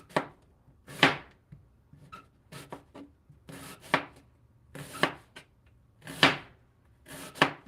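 Onions are chopped on a cutting board while making a Sunday brunch, knife strokes landing in uneven bursts of quick thuds and scraping slices, close and clear over a quiet room.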